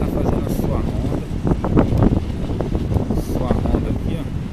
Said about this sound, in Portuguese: que tá muito vento, né, pessoal